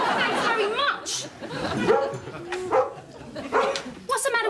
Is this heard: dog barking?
yes